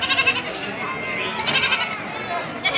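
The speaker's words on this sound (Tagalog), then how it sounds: "Ang daming kambing." Many goats at a livestock market bleat in repeated close, wavering calls while people talk nearby amid steady crowd noise.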